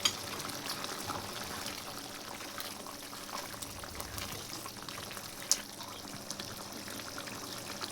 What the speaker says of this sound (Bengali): এখন এখানে আমি জলপাইয়ের আচার দিয়ে দিব 2 টেবিল চামচ